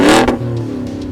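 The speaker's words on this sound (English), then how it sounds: "We do a dual exhaust out the rear." A supercharged Ford F-150 Venom 800 truck revs sharply, its dual rear exhaust roaring loud and close, then settles into a deep, throaty rumble.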